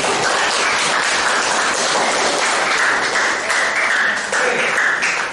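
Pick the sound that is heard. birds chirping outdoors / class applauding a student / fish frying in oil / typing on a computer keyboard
class applauding a student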